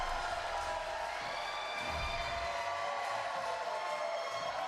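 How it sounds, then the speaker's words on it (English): Crowd cheering and murmuring fills the arena at a PBA women's bowling championship, a steady, fairly faint wash of cheers and voices held at the same level throughout with no single standout shout. "Look at this crowd. Listen to this crowd."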